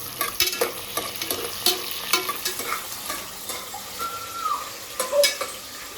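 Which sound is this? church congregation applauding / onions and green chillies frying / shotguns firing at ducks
onions and green chillies frying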